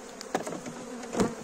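Honeybee colony buzzing during a spring hive inspection in early April in northeastern Belarus, a steady close drone of many bees with louder swells as insects pass near.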